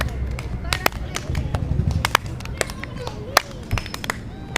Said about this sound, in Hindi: ताली के साथ नीचे जाएं, ताली बजाएं, वापिस आएं